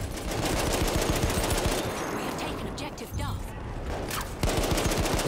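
Rapid gunfire from a Battlefield 1 multiplayer match on Fort de Vaux, dense automatic bursts and overlapping shots that keep up almost without a break, loud and close, with a short lull partway through.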